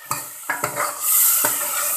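Onion, tomato and spices frying in a pan, a few sharp spoon knocks and scrapes against metal over a rising sizzle, brief and close.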